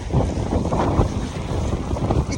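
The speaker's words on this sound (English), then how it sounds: "It's a rainy day and it's also windy." Wind buffets the microphone on a rainy, windy day outdoors in the UK, a loud, close, continuous roaring rumble with gusty surges and no talking.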